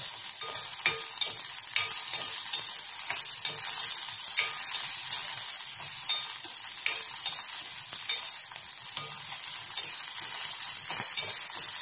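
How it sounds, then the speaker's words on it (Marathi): Green chilies roasting in hot oil in a pan on full gas flame for a peanut and green chili thecha, a steady close sizzle and crackle with scattered sharp pops and occasional stirring scrapes, no voices. "बघा या मिरच्या पण भाजलेल्या आहे"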